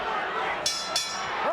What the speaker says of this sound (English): The bell ends round number 4.